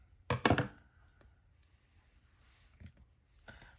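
Scissors snip through planner sticker sheets in a few sharp, close clicks: a quick double cut early on, then sparse lighter snips in a quiet room.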